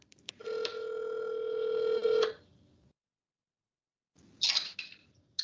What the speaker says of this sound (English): I'll try to call him on my cell phone and just hold it close